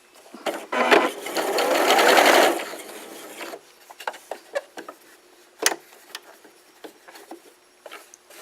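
Sewing machine stitching a basic default straight stitch, a steady close whirring run of about three seconds followed by short intermittent bursts and clicks as the fabric is adjusted.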